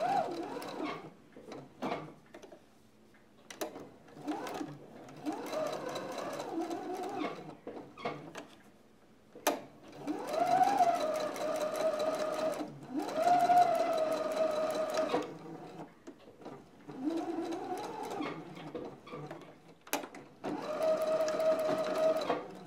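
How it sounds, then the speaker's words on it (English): A sewing machine chain sews doll fabric pieces in repeated bursts of rapid mechanical stitching, each lasting a few seconds with brief pauses between, close and clear with no talk over it. "I just chain sew it so I can just do it all at once."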